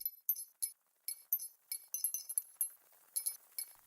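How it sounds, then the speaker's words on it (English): Bright metallic clinks ring out in irregular clusters somewhere up ahead down a dark corridor, many small chiming taps in quick bursts with short pauses, faint and alone with no talk. "It sounds like the clinking of metal."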